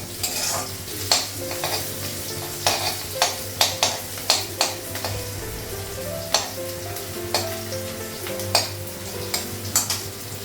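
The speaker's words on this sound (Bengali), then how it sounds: "করলা ভাজাটা হয়ে গেছে" Bitter gourd frying in a pan, a steady close sizzle of oil punctuated by regular scraping and tapping stirring strokes every second or so.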